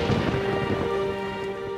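Steady rain falls in a stormy-night thunderstorm, a dense continuous hiss with a low rumble underneath, moderately loud and with no voices.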